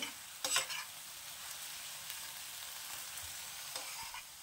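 Coriander leaves pickle is stirred in a hot pan after salt is added, with a faint, steady sizzle throughout and soft scraping strokes and a utensil clink near the start.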